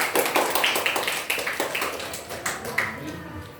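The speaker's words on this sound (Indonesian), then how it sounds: "Bisa dikasih aplaus." A class applauds a group presentation, a short burst of fairly close clapping that trails off after a few seconds.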